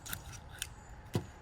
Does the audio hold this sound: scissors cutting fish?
yes